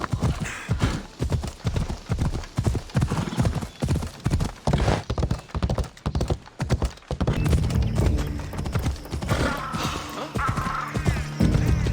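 Hooves clip-clop in a fast galloping rhythm as a horse is ridden in the video game Assassin's Creed Odyssey, loud and close, with a short whinny and rumbling movement toward the end.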